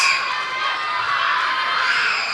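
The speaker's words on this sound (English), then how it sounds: "You can tell from the screaming kids." Children screaming and shrieking in a wrestling crowd at a live event, a steady, loud high-pitched din of young voices cheering throughout with no pause.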